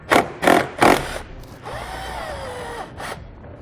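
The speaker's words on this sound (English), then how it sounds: "We're going to go ahead and remove the nut here with a 12mm socket." Ratchet or power tool with a 12mm socket loosening the nut on the positive battery post of a 2013 Infiniti JX, three sharp close bursts followed by a longer whirring spin-down.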